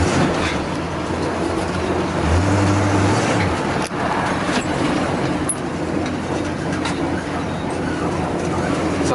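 Dodge 300 club cab one-ton dually classic truck on a test drive, a steady low engine and road rumble throughout with a brief clunk midway, heard from inside the cab with no talk.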